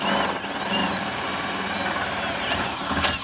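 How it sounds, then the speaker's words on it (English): A power drill with an 11/32 bit drills holes, its high-pitched motor whine humming continuously, the pitch shifting slightly as it works steadily. "right now I'm just drilling all these holes"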